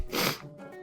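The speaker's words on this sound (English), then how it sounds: "I need to sneeze." A single sneeze bursts out at close range, loud and breathy, then fades into a short snort-like exhale.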